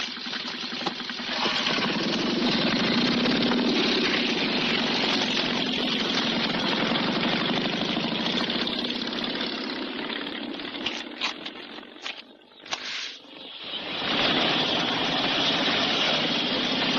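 A motorcycle engine runs in a WWII film scene, a steady, dense rumble holding loud for about eleven seconds, then briefly dipping and sputtering before surging back to full strength.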